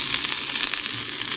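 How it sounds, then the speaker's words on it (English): Meatballs browning in a pan, made for spaghetti with meatballs, giving a steady crackling sizzle that holds evenly from start to end. "I'm browning my meatballs so that they do not come apart when I'm making the sauce"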